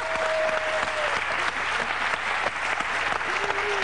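Studio audience applause on a French TV show, a steady, dense wash of clapping that stays loud throughout with faint voices mixed beneath.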